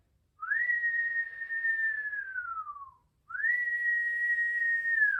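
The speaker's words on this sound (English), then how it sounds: "you're going to whistle on the in breath, and you're also going to whistle on the out breath" A person whistles a long, steady tone on the in-breath that slides slightly downward, then after a brief pause whistles again on the out-breath, close and clear with no talking.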